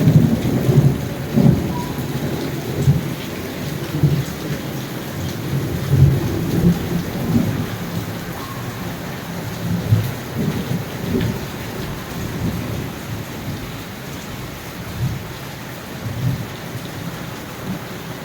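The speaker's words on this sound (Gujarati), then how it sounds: "તો જોરદાર વરસાદ પડી રહ્યો, કડાકા થઈ રહ્યા." A downpour hisses steadily on surfaces as low thunder rumbles again and again in heavy rolling swells throughout.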